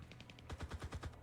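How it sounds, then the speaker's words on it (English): Rapid automatic gunfire in a battle royale video game, a quick burst of about six evenly spaced shots after a few softer pops, fairly close and loud, with no talk over it. "Who are they shooting at?"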